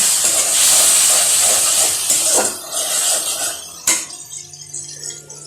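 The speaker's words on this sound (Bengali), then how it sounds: "মশলাতে একটু পানি দিয়ে" Ground turmeric and chilli spices in a pan hiss and steam loudly as water is poured in for a fish-head gourd curry. The burst dies down after a few seconds, and a sharp clatter follows.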